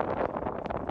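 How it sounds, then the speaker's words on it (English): Strong wind on an ultramarathon mountain climb in Mexico, a brief, loud, steady roar of gusting air buffeting close to the microphone. "That's some wind."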